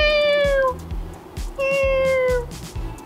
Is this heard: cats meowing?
yes